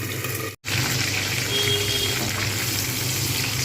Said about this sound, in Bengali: আমি কিন্তু কড়াতেই পাতুরিটা বানাবো, কলা পাতা ছাড়া। ঢাকনা দিয়ে রেখে দেবো, এক পিঠ হয়ে গেলে আবার আরেক পিঠ ভেজে নেবো।